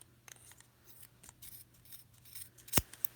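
A pair of scissors snips through yarn wound on a Clover tassel maker, one sharp close cut ringing out clearly followed by a smaller snip, over a quiet background with faint rustling.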